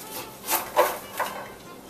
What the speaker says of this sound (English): then we're going to cut off the kernels with a knife.